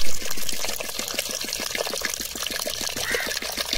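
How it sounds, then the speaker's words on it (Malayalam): Cold water pours into a mixer jar for star fruit juice, a continuous close splashing trickle with a fast bubbling pulse, steady throughout with no voices. "പിന്നെ അതിലേക്ക് നല്ല തണുത്ത വെള്ളം ഒഴിക്കുക."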